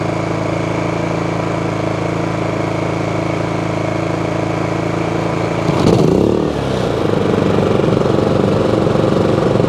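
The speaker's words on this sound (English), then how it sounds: "Now listen to that. 2 generators are running and I can carry on a conversation." A portable electric-start generator runs at a steady drone with another generator nearby, with a brief surge and rumble near the six-second mark as it cranks or settles, then steady running continues, loud and close.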